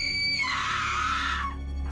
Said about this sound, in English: As soon as I heard the scream